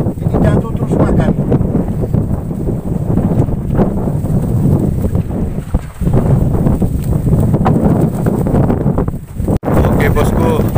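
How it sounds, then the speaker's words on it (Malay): Strong wind buffeting a small fishing boat at sea in rough weather with waves, steady heavy gusting roar against the microphone, with a person talking intermittently over it. "cuaca tidak mengizinkan, kuat angin, ombak."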